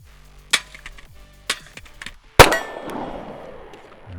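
A red dot optic drops onto a stainless steel water bottle, giving a few light metallic taps followed by one loud ringing clang that decays slowly.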